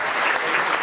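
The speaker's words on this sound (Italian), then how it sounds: "Facciamo un applauso a" Studio audience applause at an Italian sports television broadcast, a steady dense wash of clapping that fills the whole moment without any voices over it.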